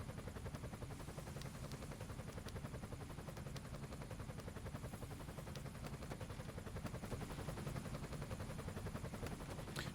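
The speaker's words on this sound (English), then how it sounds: "So rescue helicopter is coming into view here right now, or the search and rescue helicopter" A search and rescue helicopter in the video game Emergency 5, during a Hamburg flooding scenario, gives a dense, steady roar of rotor and engine noise that holds an even level throughout, with no talking.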